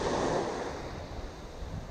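Side wind rushing over the sea during a fishing session, with steady broadband wind and surf noise buffeting the microphone up close, strongest at first and then easing slightly, with no voices.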